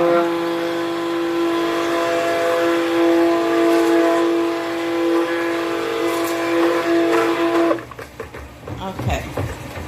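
A stick blender drones steadily through lavender and chamomile cold process soap batter at light trace, a sustained motor hum that cuts off near the end, leaving faint handling noises.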